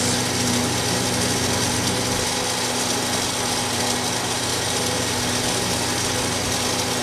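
A lattachino glassblowing torch with a cutting tip roars as a steady, loud, broadband hiss with a faint hum beneath, unchanging for the whole stretch.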